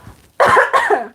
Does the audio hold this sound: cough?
yes